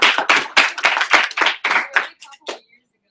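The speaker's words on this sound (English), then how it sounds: "Can we give her a huge round of applause for reading the book and doing the assignment?" A small group in an office meeting gives a short round of applause, close and uneven claps in quick bursts that thin out and stop after under three seconds.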